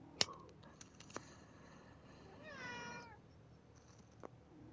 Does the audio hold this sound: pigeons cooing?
no